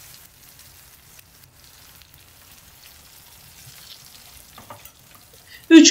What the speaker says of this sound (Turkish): Kızardıktan sonra üzerine çırptığım yumurtayı yavaş yavaş döküyorum